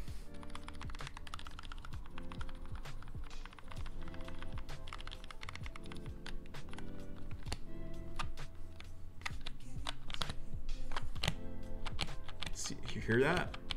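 Steady close typing on a MiniVan custom mechanical keyboard with Gateron yellow switches, rapid clattering keystrokes with hollow knocks where the top-row keys strike the case, and a voice speaking briefly near the end.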